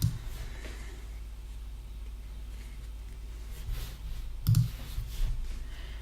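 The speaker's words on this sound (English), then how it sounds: "And then I'm going to click Pay Now." A mouse button clicks on an online checkout's Pay Now button during a web hosting purchase, a short sharp click near the middle standing out over a faint room hum, with a few softer clicks elsewhere.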